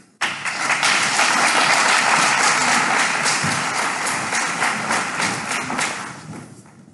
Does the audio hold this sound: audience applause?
yes